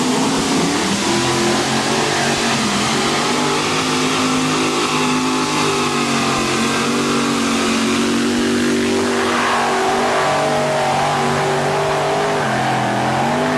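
A modified pulling tractor powered by five supercharged 454 Chevy engines makes a pull at a 1989 NTPA event in Atco, New Jersey. It gives a loud, sustained multi-engine roar whose pitch rises and shifts throughout the run.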